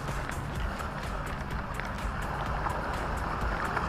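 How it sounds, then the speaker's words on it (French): A waterproof HBX 12891 4WD radio-controlled car drives through a large puddle, a continuous rough splashing and churning of water with a buzzing motor close by, steady throughout. "Là, il y a une flaque d'eau, hop, on la fait rouler dans la flaque d'eau."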